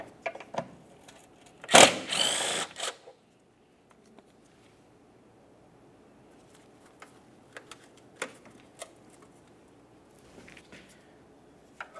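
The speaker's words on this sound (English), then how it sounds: "We'll use a 12mm to remove this bolt" A 12mm ratchet works on a brake hose bolt on a 2006-2011 Honda Civic during rear coil spring replacement. One loud, close ratcheting burst of just over a second is followed by quiet workshop stretches with a few faint clicks.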